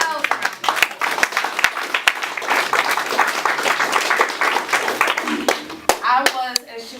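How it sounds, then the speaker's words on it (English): Audience at an honorary community event clapping, with sharp, separate hand claps that build into a fuller round of applause and then thin out toward the end, fairly close and moderately loud. "Give yourselves a round of applause."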